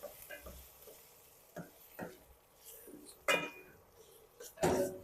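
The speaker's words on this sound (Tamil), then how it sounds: "தக்காளி ஆட் பண்ணிட்டு அப்படியே மிக்ஸ் பண்ணுவோம்" Tomatoes get stirred into a frying mixture in a pan, with quiet sizzling, scattered scraping strokes and a few louder clinks and clatters of the utensil against the pan.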